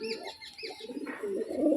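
A Malbai pigeon coos close by, a few throaty warbling calls rising and falling in quick succession, rounding into a louder rolling coo at the end with no speech.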